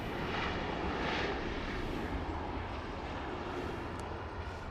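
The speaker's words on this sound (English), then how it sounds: "there goes JetBlue coming in" A JetBlue airliner comes in to land at Los Angeles airport, a moderately loud, continuous engine rush that swells slightly early on and then holds steady.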